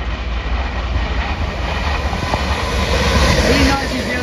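Avanti West Coast train from London Euston to Glasgow Central passing through Crewe station, a loud steady rumble and roar of wheels and carriages building slightly toward the end, with a brief squeal partway through.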